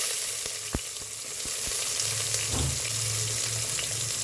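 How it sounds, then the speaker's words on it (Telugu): Chopped onions and green chillies fry in hot oil with mustard seeds, cumin, dried red chillies and curry leaves, sizzling steadily, with occasional pops and stirring taps. "పచ్చి వాసన పోయే వరకు ఇది కొంచెం లైట్ బ్రౌన్గా ఫ్రై చేసుకోవాలమ్మా"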